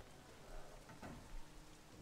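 Rain falls in the video game Sleeping Dogs, a faint, steady wash of drops with slight swells, distant and low in level, no voices over it.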